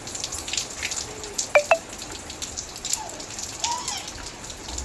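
Rainwater drips and falls during a downpour at home, with a soft steady patter and a few sharp, close drips standing out, including a quick pair early on.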